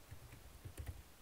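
Soft, quick taps of typing on a computer keyboard, a handful of faint keystrokes in an uneven rhythm, heard alone and close.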